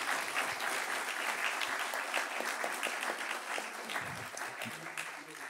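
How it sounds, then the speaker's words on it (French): Audience applause at a French round-table discussion on France, war and the BRICS, a steady hall-wide clapping that holds evenly and tapers slightly toward the close, with faint voices underneath. "Donc merci beaucoup Madame Galacteros, qu'on peut applaudir, merci beaucoup."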